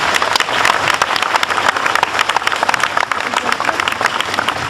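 Loud, lively applause from a crowd gathered for a priest's sermon, dense rapid clapping sustained throughout with scattered voices underneath.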